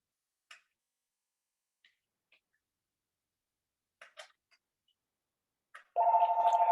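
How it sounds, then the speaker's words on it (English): An office telephone rings at the end, a steady, electronic warbling tone that starts abruptly and continues, following a few faint clicks and taps in an otherwise quiet room. "I apologize for the phone, but I am in the office."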